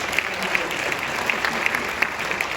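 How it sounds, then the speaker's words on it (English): A brief burst of audience applause at a talk at NASA Johnson Space Center, a dense even clatter of many hands clapping together without pause. "Round of applause for Steve."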